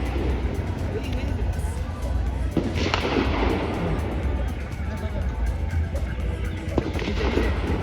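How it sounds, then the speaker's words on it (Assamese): Gunfire crackles at the Indo-Bhutan border near Bhairabkunda, with scattered distant reports buried in a dense wash of outdoor noise while people talk nearby. "গুলি ফুটাই আছে ভাই সেইটো চাওক চাউণ্ড"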